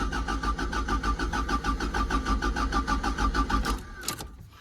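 Toyota MK1 MR2 with a 1.6 engine cranking under the starter in a fast, steady rhythmic chug for nearly four seconds, then catching briefly and cutting out, loud and close.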